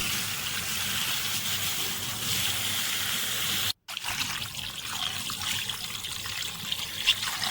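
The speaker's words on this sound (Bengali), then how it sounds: "একটা পরিষ্কার কাপড়ের মধ্যে ছানাটাকে নিয়ে ভালোভাবে জল দিয়ে ছানাটাকে ধুয়ে নিতে হবে" Water running over chhana held in a cloth while rinsing homemade paneer, a steady close trickle and splash with a brief break midway before the flow resumes.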